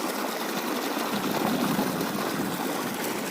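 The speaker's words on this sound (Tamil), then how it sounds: "பருத்தி செடிக்கு ஃபுல்லாக தண்ணி பாய்ச்சிட்ருக்குங்க." Irrigation water pouring into a cotton field makes a steady, close, loud rushing wash with a faint mechanical hum underneath, unbroken throughout with no voices.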